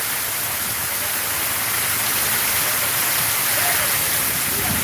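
Heavy nighttime storm rain in Sylhet pours in a dense, unbroken roar, loud and close, holding steady for the whole stretch with no voices.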